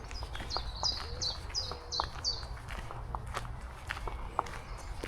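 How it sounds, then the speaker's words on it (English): Birds sing in a repeated chirping phrase along a rural trailway near Upton, Poole in Dorset, while close footsteps crunch steadily underneath on the path. "Just amazing listening to the bird song."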